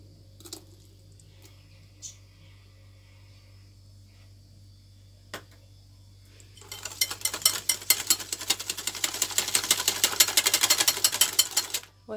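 A flan cake batter being stirred after milk is poured in: a few sparse clicks and knocks at first, then a loud, continuous scraping and clattering swirl of utensil against bowl that builds and runs to the end.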